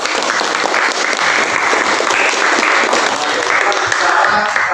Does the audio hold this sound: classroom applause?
yes